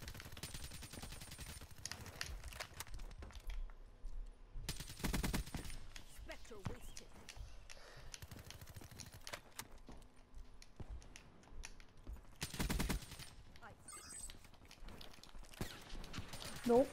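Gunfire from a gun in the video game Black Ops 3, rapid automatic bursts separated by gaps, mixed with game effects and a voice talking over them.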